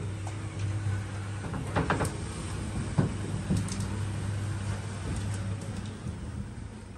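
Chamberlain RollerLift motor driving a roller garage door down, a steady low mechanical hum with rattling clatter and scattered clicks and knocks as the door slats roll, moderately close and without talk.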